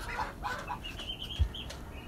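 Backyard chickens and ducks clucking and stirring as they are fed, with soft scattered calls and a brief low thump amid a quiet outdoor background.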